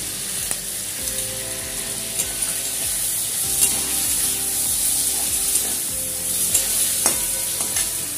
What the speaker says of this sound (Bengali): এবার বাটিতে ভিনিগার সয়া সস আর টমেটো সস নিয়েছিলাম সেটা দিয়ে দেব